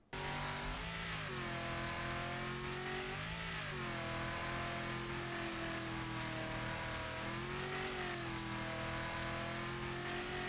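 A race car engine runs steadily through a lap of the video game Wreckfest, loud and close throughout, with rising and falling revs and gear shifts as it accelerates and brakes.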